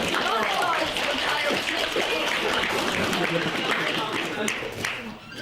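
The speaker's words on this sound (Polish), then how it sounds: "Brawa dla chłopaków" A crowd at a My Little Pony fan convention quiz applauds the winning team of boys. The clapping is dense and steady, a continuous wash of sound with voices mixed in throughout.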